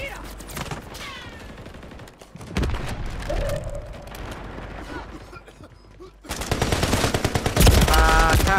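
Gunfire in the Call of Duty video game: rapid bursts of automatic fire and loud shots that come in dense volleys, pause briefly, then return heavier, with a player's voice shouting over the action.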